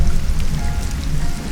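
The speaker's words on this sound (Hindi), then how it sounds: "बादल गरजने की आवाजें आ रही थी।" Film scene of heavy rain falling steadily on surfaces, with a dense continuous hiss and a low rumble underneath that suggests distant thunder, loud and close with no voices.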